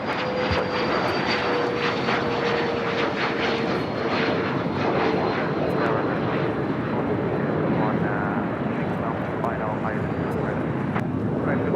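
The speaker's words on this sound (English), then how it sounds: "You have Air Canada Flight 553 heading to Vancouver, a 737 MAX 8" An Air Canada Boeing 737 MAX 8 bound for Vancouver roars on its engines at Los Angeles International Airport, a dense continuous rumble with a faint tonal whine, while someone talks over it almost throughout.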